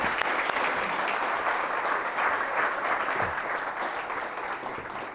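Sustained applause from a school audience thanking pupil questioners at an Alastair Campbell talk, continuous close clapping that holds steady and eases slightly toward the end, no voices standing out.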